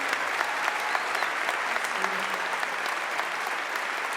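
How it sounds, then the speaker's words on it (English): An audience at a Juno Songwriters' Circle applauds a singer and Juno winner, a steady wash of many hands clapping at moderate volume, continuous throughout and unaccompanied by speech. "Give her a round of applause"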